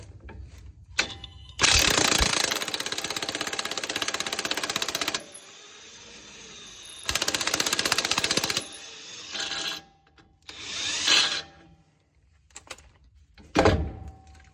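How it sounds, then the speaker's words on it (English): Ratchet wrench loosening the 21 mm bottom strut bolt on a Chevy Colorado front suspension, several loud close bursts of rapid clicking separated by pauses and a few metallic knocks. "Next, we'll pull the bottom strut bolt out."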